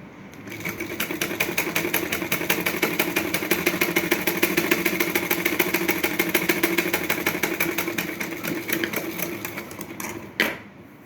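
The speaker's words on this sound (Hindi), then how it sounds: "अब मैं इस पे भी सिलाई लगा दूँगी" A sewing machine stitches a blouse lining in a fast, even mechanical chatter that runs steadily for several seconds, then slows and stops with a sharp final clack.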